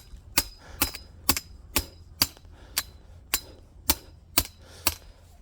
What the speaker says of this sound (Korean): 우리 망 선생을 동원해서 말뚝을 때려 보겠습니다